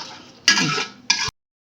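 Spice paste for a chicken roast being stirred and fried in a pan with a little water: two short bursts of scraping and sizzling, the first longer, then sudden silence.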